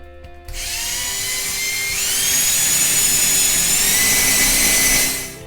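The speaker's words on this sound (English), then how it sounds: "So now you drill into the tape and you know you're to the depth of the screw" Power drill with a 9/64 bit boring a screw hole through tape while a broom holder is mounted, with a steady loud whine that rises slightly in pitch and then stops, up close.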